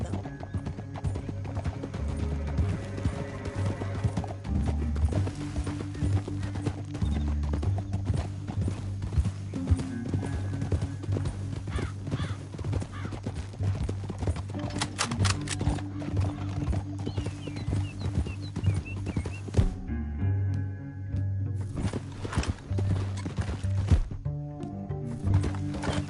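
Steady clip-clopping of horse hooves plodding along, mixed with a continuous background music bed, in the video game Red Dead Redemption 2.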